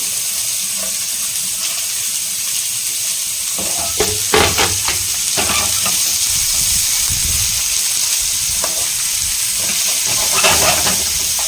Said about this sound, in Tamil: சோம்பு பொரிஞ்சிடுச்சு, இப்போ ஆனியனை சேர்த்துக்கலாம்